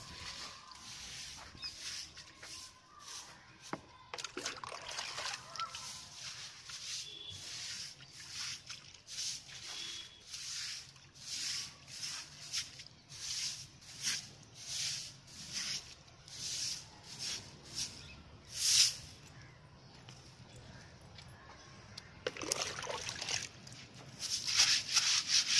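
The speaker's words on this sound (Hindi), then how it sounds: "देखिए गेट को हम अच्छे से धो देंगे पानी डाल के।" Steady rubbing and scrubbing of a gate being washed down with water in a village setting, a continuous close wet brushing with repeated stroke bursts, no talk.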